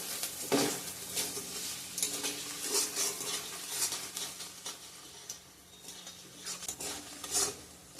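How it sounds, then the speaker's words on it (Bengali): Moong dal fries in a hot pan while a utensil scrapes and stirs in irregular bursts, close up and fairly loud. "জল ছিল রে তার মধ্যে ভালো করে ভেজে নেবো"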